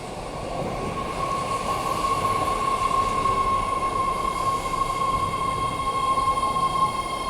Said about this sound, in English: And here is our train.